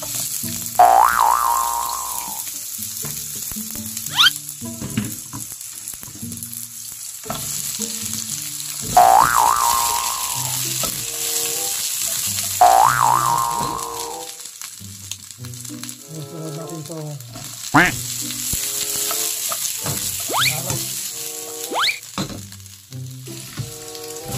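Chayote sautés in hot cooking oil in a pan, a steady sizzle with rising bursts and stirring clatter throughout, close and fairly loud.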